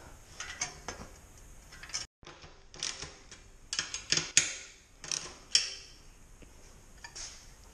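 Ratchet tightening the four tail lamp bolts on a Yamaha Virago cafe racer fitted with an R6 tail lamp, heard as irregular bursts of quick clicking strokes separated by short pauses, fairly close and moderately loud, with no talk.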